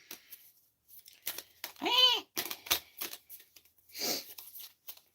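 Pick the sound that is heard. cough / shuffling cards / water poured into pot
shuffling cards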